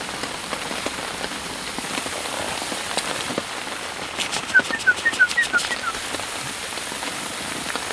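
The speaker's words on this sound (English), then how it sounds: "that rain out there isn't letting up" Steady rain patters on a surface during a spring carp fishing match, a constant hiss with scattered drops, and a brief burst of flapping or chirping near the end.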